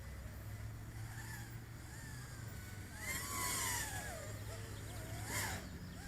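A Walkera Rodeo 110 quadcopter with motors punched to full throttle, a whining buzz that rises and swoops in pitch over a low steady hum, swelling louder midway, heard from a moderate distance without speech.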